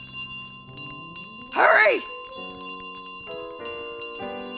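In Untitled Goose Game, a bell carried by a running goose jangles loudly in one burst, surrounded by tinkly game music notes, with a person shouting over it.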